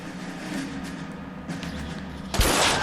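Gunfire in the video game L.A. Noire: a low rumbling backdrop with faint scattered pops, then a sudden loud burst of shots near the end.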